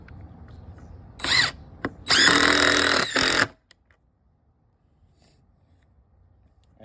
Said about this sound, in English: Very compatible with my DEWALT extender. For example, I can show you my Tapcon here.